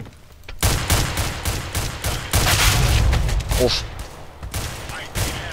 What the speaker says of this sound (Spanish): No, yo me quedo aquí disparando al frente.